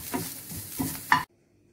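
Short bursts of onion, garlic and ginger frying and being stirred in a pan: three scraping, sizzling pulses that stop abruptly, leaving near silence.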